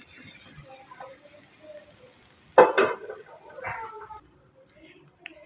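Crushed garlic fries in a pan with a soft sizzle, then a sharp clatter of utensil on the pan midway and a few light scrapes; quiet and fairly close, with no talking.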